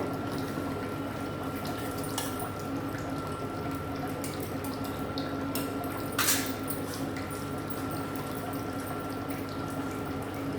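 Rice is tipped into a pot of boiling water with a little oil, giving a continuous soft bubbling and watery churn, with one brief louder splash partway through, faint and close.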